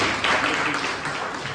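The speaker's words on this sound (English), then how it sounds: "Please give him a huge round of applause for that." Applause from an audience at a Toastmasters club meeting in Bangalore, a steady wash of clapping lasting a moment, fairly loud and close.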